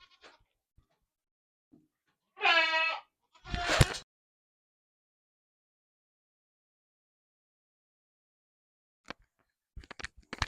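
A goat on a farm lets out one clear wavering bleat, followed by a second short harsh call, then near silence with a few faint clicks and knocks toward the end.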